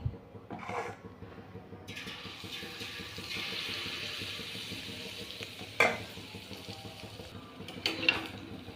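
Banana malpua batter hitting hot oil in a pan, a rising hiss of frying that swells and holds steady, with a couple of sharper clinks of a utensil near the end.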